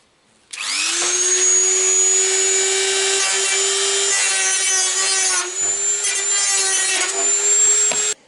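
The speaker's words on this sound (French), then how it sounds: "Donc, il va falloir que je meule ça, déjà." An angle grinder working on car door sheet metal of a Citroën Traction 11B, grinding off spot welds: a loud, steady high whine with harsh scraping overtones, running almost continuously for about seven seconds with brief dips in load.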